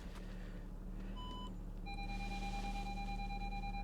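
Reverse warning beeps from a car at an auction yard, a steady high electronic tone starting about midway and holding, faint against low engine idle and background hum.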